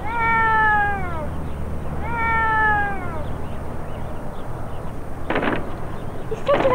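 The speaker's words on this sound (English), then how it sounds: "Why stop meowing?" A cat gives two long drawn-out meows in quick succession, clear and close over a noisy background, followed by a few sharp thumps.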